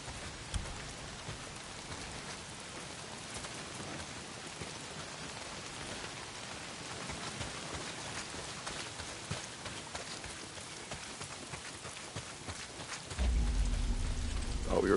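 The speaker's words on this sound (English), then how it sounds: "A lot of it's pissing down rain." Steady heavy rain pours down in a video game scene, a dense, even hiss of drops lasting throughout, with a brief louder thump near the end.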